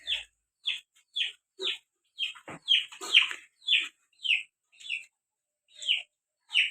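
A chicken chirps in a steady series of short, bright calls, about a dozen evenly spaced notes, with one brief lower squawk in the middle.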